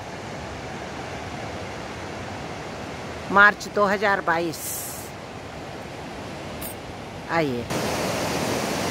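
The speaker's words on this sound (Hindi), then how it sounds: "ये व्यास नदी का शोर सुनिए, ये पानी का शोर है।" A steady roar of the Beas river flowing through hills at a nature park in Kullu, Himachal Pradesh, fills the background as constant loud rushing water, while someone speaks briefly over it.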